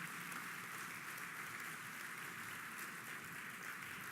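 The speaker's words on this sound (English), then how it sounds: "A big applause again, please." Sustained applause from a large summit audience at a climate event in Porto, a steady dense wash of many hands clapping at even loudness throughout, heard from a distance with no voices.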